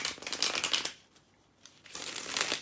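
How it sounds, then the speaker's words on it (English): Tarot cards being shuffled close up, two bursts of rapid riffling and flapping separated by a short quiet pause, with no talking. "let me shuffle and see what we got"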